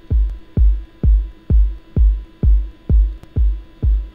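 Nine punchy electronic kick drum hits from FL Studio, played with the stereo enhancer switched off, thump in an even, steady pulse about twice per second, each with a deep booming tail, dry and alone.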